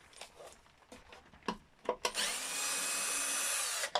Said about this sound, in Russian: Далее меняем биту и откручиваем все вот эти